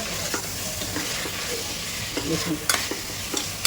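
Chicken and ground spices, including red chilli powder, fry in a pan with steady sizzling and scraping stir strokes, a few sharper clatters near the end and one brief spoken word.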